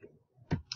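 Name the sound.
mouse click adding a category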